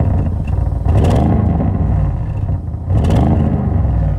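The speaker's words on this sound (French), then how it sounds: "Le système d'échappement Sport RS dispose d'un son plus rock" An Audi RS6 Avant with the Sport RS exhaust gives a loud, deep engine rumble that swells twice in short revving surges, heard up close with no other sounds.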